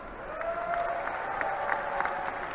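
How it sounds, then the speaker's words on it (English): An audience claps for a table tennis player after a women's world championship semifinal, a steady mid-level patter of applause with a faint tone running under part of it. "Clap for her."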